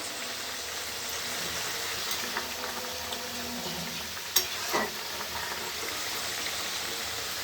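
Potatoes frying in a pan of oil for a mutton curry give a steady close sizzle with faint stirring scrapes and one brief clatter near the middle.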